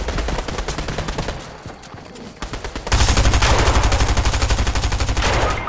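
Rapid bursts of automatic gunfire in a Fortnite match, loud and continuous with rhythmic rattling, growing heavier and denser in the second half; no one speaks.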